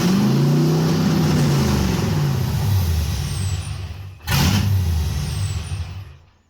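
An LS-swapped 1989 Chevy S10 Blazer engine idling rough and loud up close, a steady low drone with a brief dip and surge near the end before it cuts away.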